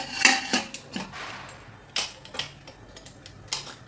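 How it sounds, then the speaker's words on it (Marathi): Lid being set onto a pot of rava for ladoos in a home kitchen, giving a few close metallic clinks and taps spread over a few seconds, with no talk. "ह्याला आता झाकण लावून घ्यायचं"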